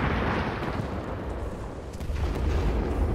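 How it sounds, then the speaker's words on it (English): A frag grenade explosion in the video game Titanfall 2, a loud, sustained rumbling blast with dense low-end boom that fills the whole moment with no pause. "I'm gonna throw a frag grenade in here."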